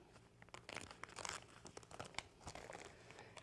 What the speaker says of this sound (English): you can see how clean that paper tears right out of there